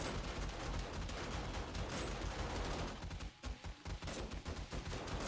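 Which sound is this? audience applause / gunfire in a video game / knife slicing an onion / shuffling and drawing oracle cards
gunfire in a video game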